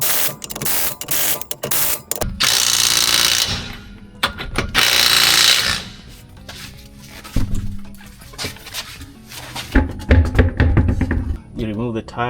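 Lug bolts being threaded and driven back onto a wheel during a DIY tire rotation, close ratcheting and whirring bursts from a tool, several short runs separated by pauses, with a person talking in between.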